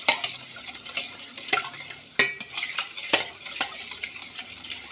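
Orange peel and baking soda are stirred in a pot, with a continuous scraping, clinking spoon-on-metal sound over faint fizzing, close and fairly loud.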